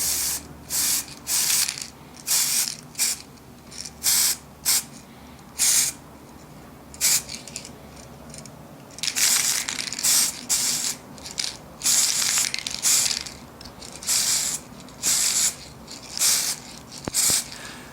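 Spray paint hisses onto a vintage Star Wars Death Star droid action figure in a rapid run of short bursts, some clustered and some spaced apart, close and fairly loud, no speech.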